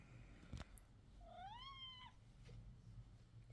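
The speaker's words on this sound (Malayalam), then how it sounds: "ഇതെൻ്റെ പൂച്ചയാ" A pet cat gives one clear, drawn-out meow indoors, faint and close, after a brief knock, with quiet room hum around it.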